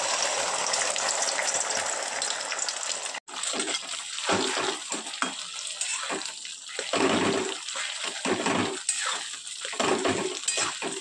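Beaten eggs seasoned with salt hit hot oil for a chowmin dish, giving a steady, bright sizzle with light pan clatter. It runs nearly continuously, with one brief dip partway through.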